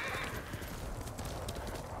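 In the Ghost of Tsushima video game, a horse gallops with quick rhythmic clip-clop hoofbeats and lets out a neigh, all quiet and fairly distant with no voices over it.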